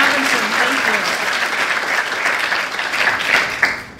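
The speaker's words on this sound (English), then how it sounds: "Yes, applause for Jerry Robinson," An audience at a comics exhibition opening night at Columbia applauds Jerry Robinson, a dense, even wash of clapping throughout, with faint voices mixed in.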